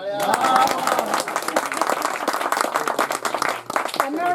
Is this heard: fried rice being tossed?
no